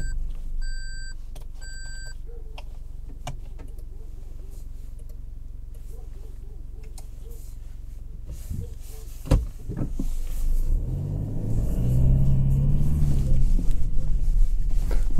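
Toyota Hilux Invincible pickup on the road, with a few beeps and cabin clicks at first, then engine and road noise swelling as it gets moving, heard from inside the cab.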